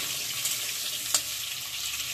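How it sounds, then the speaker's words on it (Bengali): Potatoes fry in hot oil in a wok, giving a soft, steady sizzle with one brief clink of stirring midway, close by and fairly quiet. "আলুগুলো একটু নেড়ে চেড়ে ভেজে নেবো"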